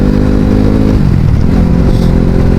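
A KTM RC 390 motorcycle accelerating hard, its loud close engine note rising and then dropping as it shifts up a gear, with the revs climbing again afterward.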